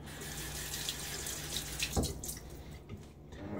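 Cold tap water runs steadily into a sink in winter during a wet shave with hard water, a continuous close splashing flow with a brief louder gush near the middle.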